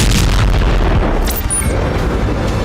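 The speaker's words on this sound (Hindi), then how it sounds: "वीडियो में एक के बाद एक भीषण बम धमाके" Bomb blasts near Al-Shifa hospital roll out as one loud, continuous, heavy rumble of deep booms that fills the whole stretch without pause.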